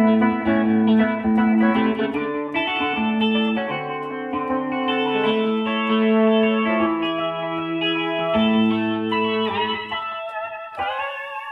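A keyboard plays sustained chords with a gritty, distorted electric tone and some chorus-like shimmer, loud and continuous with no voices.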